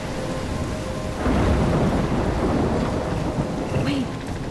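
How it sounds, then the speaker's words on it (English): A thunderstorm with heavy rain in the video game Life Is Strange: steady rain hisses throughout while a deep roll of thunder swells midway, loud and enveloping. "I'm trapped in a storm?"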